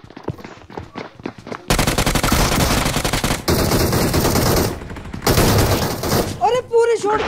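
Shotgun blasts and bursts of gunfire in PUBG crash out loud and dense in rapid succession across long stretches, with brief quieter gaps and a voice talking near the start and end.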